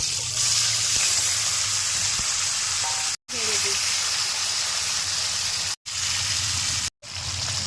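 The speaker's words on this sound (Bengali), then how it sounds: "এই তেলের মধ্যে এবার চিকেনটা দিয়ে দেবো।" Chicken pieces fry in hot oil for a kadai chicken, a loud, close, continuous hissing sizzle with a few brief cuts and occasional stirring knocks.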